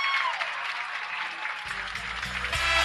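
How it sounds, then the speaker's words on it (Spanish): Crowd applause at an election-night rally in Corrientes, Argentina, a dense clapping wash with music or a low tone entering partway through and the applause staying steady to the end. "Bien fuertes esos aplausos"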